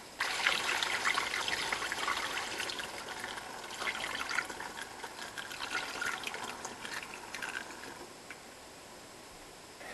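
A cooled mint julep syrup is poured into a club soda container, producing a soft continuous trickle and splash of liquid that gradually thins out, faint and close, with no talking.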